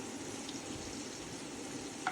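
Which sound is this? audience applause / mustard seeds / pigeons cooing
mustard seeds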